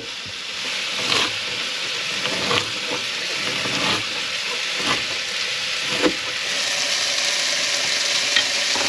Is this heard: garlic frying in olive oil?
yes